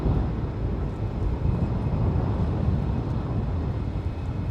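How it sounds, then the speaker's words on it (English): An Air Canada Express CRJ 900 LR jet, one year old, lands on runway 28 right at San Francisco International Airport, producing a steady, loud, broad roar of engine and airflow that holds for the whole stretch with no voices. "on 28 right is Air Canada Express Flight 8647 coming in from Calgary. It is a 1-year-old CRJ 900 LR."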